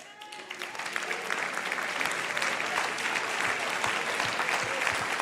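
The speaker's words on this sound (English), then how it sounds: "You're going to do a lot of clapping" Sustained applause from a conference audience, dense and steady clapping filling the room for several seconds after a brief quieter start.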